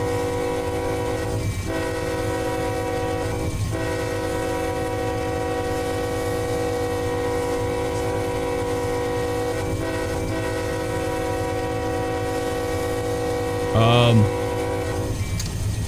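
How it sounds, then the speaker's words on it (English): Simulated heavy coal train with two locomotives and 85 loaded cars grinding along at low speed, a steady tonal engine drone over rumble with periodic rail clicks and a brief louder burst near the end. "Traditional Boswick coal train, 2x85, 2 engines, 85 cars"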